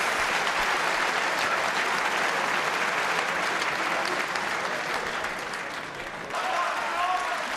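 A snooker audience at the 2011 World Championship semi-final applauds Judd Trump's century break against Ding Junhui, loud sustained clapping that dips briefly near the end before swelling again, with a commentator's voice faintly underneath.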